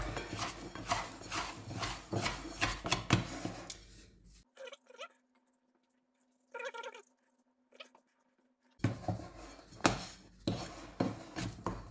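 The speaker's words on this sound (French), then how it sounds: "Je prends ma corne, je gratte tout ça." A plastic bench scraper scrapes lemon meringue tart pastry dough off a work surface in a kitchen, giving soft, close rubbing and scraping strokes with a quiet gap in the middle and faint room noise.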